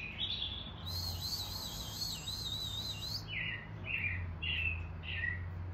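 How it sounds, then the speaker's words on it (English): Birds chirp and tweet outdoors, a trilling call followed by a few short, separate chirps, faint and somewhat distant over a quiet background hum. "We have lots of birds around."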